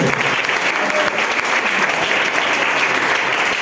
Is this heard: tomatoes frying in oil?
no